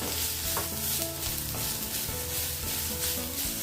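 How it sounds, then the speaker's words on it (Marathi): Tomatoes sizzle steadily in a hot pan while they are stirred, a continuous loud frying hiss with scraping movements throughout. "टोमॅटो देखील परतून घेऊयात नंतर ओली कोथिंबीर घालून सर्व एक दोन मिनिटे मंद गॅसवर भाजून घेऊयात"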